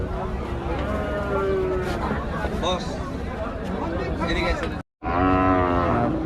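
Cattle moo loudly at a Rajshahi livestock market selling cattle and buffalo calves, with long lowing calls rising over a busy background of people talking nearby.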